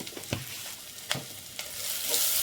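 Hot oil sizzles with a pinch of turmeric powder stirred into a village-style tempering for brinjal bajji, a steady close hiss broken by a few sharp crackles and spoon scrapes, with no voices.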